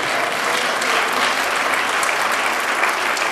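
A church congregation applauds, dense, steady clapping from many hands filling the space at an even, fairly loud level throughout.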